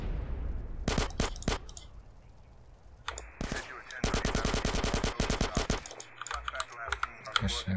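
Submachine gun fire from the video game Grand Theft Auto San Andreas rattles out in two short bursts, then a longer rapid string and more scattered shots, loud and close over game background sound.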